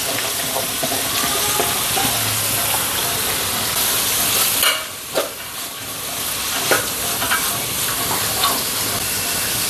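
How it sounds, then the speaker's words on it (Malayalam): Onions frying in a pan with ginger and garlic for a beef curry: a steady loud sizzle with stirring and scraping throughout, close and with no talk. "ഇഞ്ചിയും വെളുത്തുള്ളിയും പച്ചമണമൊക്കെ മാറി ഇനി സവാള ഇട്ട് കൊടുക്കാം."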